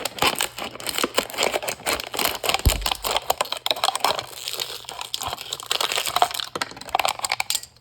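Crinkly plastic crunches and sharp snips repeat over several seconds, close by, as scissors work through a plastic bottle.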